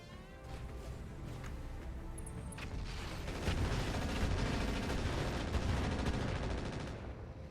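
Mech weapons firing in the RogueTech battle game, a dense run of heavy gunfire-like blasts and crashing impacts that builds louder midway and holds steady, with no talk over it.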